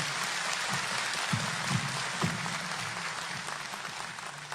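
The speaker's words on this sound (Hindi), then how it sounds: "सभी की तरफ से सर के लिए एक जोरदार ताली आप सभी दें।" Loud applause from a crowd of newly appointed assistant teachers at an appointment-letter ceremony with the chief minister, a thick continuous clapping with a few sharper claps standing out, fading slightly toward the end.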